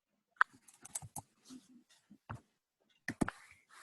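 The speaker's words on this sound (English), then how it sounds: "I'm typing it right now." Irregular clicks and taps of a computer keyboard come in scattered bursts with pauses between them, close and crisp, with no voices during the keystrokes.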